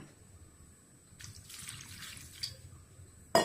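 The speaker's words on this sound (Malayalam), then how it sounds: "വെള്ളം ഒരല്പം കൂടെ ഒഴിക്കണം." Water is poured into a curry pot with curry leaves, a short splashing trickle of about a second, followed by a sharp metallic clink.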